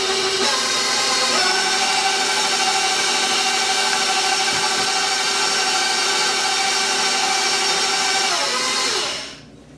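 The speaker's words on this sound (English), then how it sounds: "Now I'll turn my mixer up a bit." An electric mixer whirs steadily through Nutella banana bread batter, a loud continuous motor hum with a brief shift as the speed is raised, then winding down and stopping at the end.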